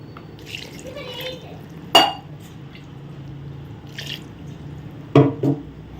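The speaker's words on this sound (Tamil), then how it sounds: "இப்போ தண்ணி ஊற்றுவான்" Water poured from a tumbler into soaked rice for vegetable biryani, giving two short splashing pours, one near two seconds and another around five seconds, with faint drips and quiet background between.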